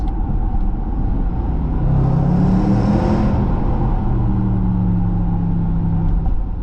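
A Range Rover SVR engine with its exhaust resonator removed revs with a deep, droning exhaust note, rising and holding steady throughout, loud and close with a constant rumbling undertone.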